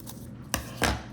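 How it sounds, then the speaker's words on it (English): Scissors cut and trim the edge of a stapled paper rosette in a craft session, two crisp close snips about a quarter second apart. "Then I'm just gonna cut my piece and trim my edge."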